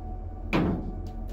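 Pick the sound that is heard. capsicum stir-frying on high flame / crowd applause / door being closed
door being closed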